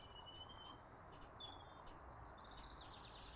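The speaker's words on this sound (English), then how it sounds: "Birds everywhere." Small birds chirping in garden trees, short high repeated tweets and thin whistles, faint and somewhat distant over steady outdoor ambience, no voices.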